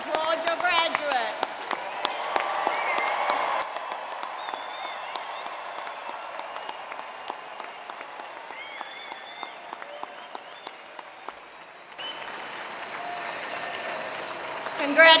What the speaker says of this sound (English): Families and friends, one more time, please applaud your graduate.